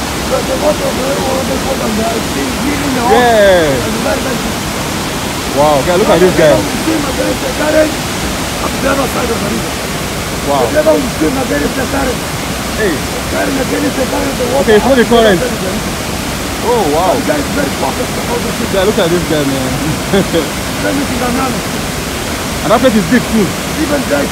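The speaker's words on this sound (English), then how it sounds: "water is falling from there, so it's digging holes" Fourteen Falls in Kenya roars as a loud, steady rush of falling water, with voices talking over it throughout.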